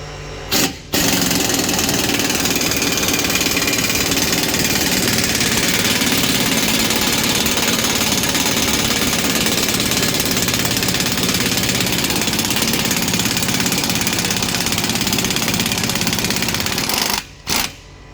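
An air-compressor-powered pneumatic tool works on the lower ball joint of a Dodge Charger R/T, a loud, continuous rapid hammering rattle running nearly nonstop, cutting in sharply at the start and stopping just before the end.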